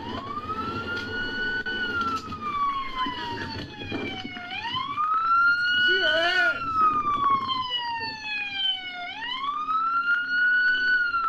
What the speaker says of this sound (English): turn the siren off, please. I can't hear.